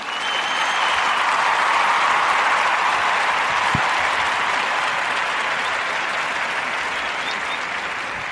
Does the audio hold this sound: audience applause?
yes